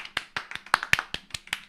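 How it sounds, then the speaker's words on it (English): One pair of hands claps quickly and evenly, about ten sharp claps in under two seconds. The claps are close and alone, with no other sound around them. "here's the clap for everyone in advance"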